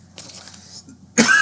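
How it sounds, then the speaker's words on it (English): A single harsh cough bursts out loudly near the end, preceded by soft breathy noise, close to the microphone. "sorry, I'm coughing."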